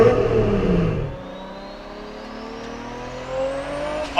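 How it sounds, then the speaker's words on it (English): A modified 1995 Nissan Skyline R33 GT-R with its RB26 inline six revs loudly from inside the car, falling off, then climbing steadily in pitch with a rising whine. "I love the sound of the RB26"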